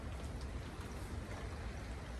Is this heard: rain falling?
yes